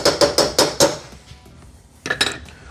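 Honey and barbecue sauce being mixed in a bowl: a quick run of five sharp utensil clinks against the bowl, a brief lull, then another short cluster of scraping taps, close and loud.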